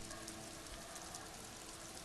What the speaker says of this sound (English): Droplets of rain fall on the wooden planks, the surrounding sand dunes.